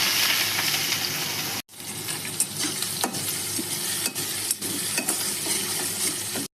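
Chopped onion hits hot oil already crackling with mustard seeds and curry leaves, a loud close sizzle with a sharp burst as it drops, then steady frying with scrapes and stirring clinks.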